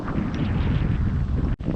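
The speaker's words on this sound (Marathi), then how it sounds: "त्याचा वारा पण भरपूर सुटलाय बघा वारा किती सुटला बघा" Strong wind blowing hard against the microphone, a steady, rough roar that cuts out briefly near the end.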